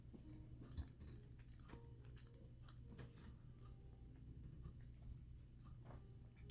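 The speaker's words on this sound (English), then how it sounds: "Hopefully you can't hear that loud chewing" Someone chews loudly and close by, with soft wet crunches and clicks repeating steadily over several seconds against a quiet background.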